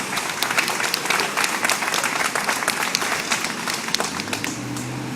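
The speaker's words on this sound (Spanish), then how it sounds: "Brindémonos un caluroso aplauso." Crowd applauding at an anti-Peña Nieto protest rally at Placita Olvera, dense outdoor clapping with sharp individual claps standing out, fading slightly as a low sustained tone comes in near the end.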